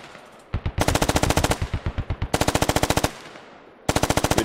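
Sustained automatic gunfire in a military video game, loud bursts of rapid rhythmic shots with brief pauses between them and no talking.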